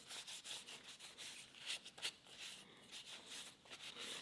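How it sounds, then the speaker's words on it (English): Burnt char is rubbed off small pieces of scorched wood by hand, giving soft, repeated scratchy rubbing strokes, faint and close, with no talk. "So I'm just going to rub off some of that char."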